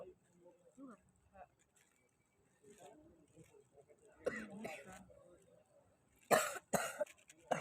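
Faint, scattered sounds give way to a few harsh, loud coughs near the end, with quieter murmuring in between.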